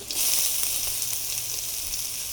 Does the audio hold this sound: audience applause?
no